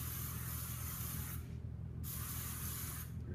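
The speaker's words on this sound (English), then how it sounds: "Just going to take a little of the light working spray" Light working hair spray hisses from a can during styling in two close, steady bursts separated by a short pause, with nothing else heard.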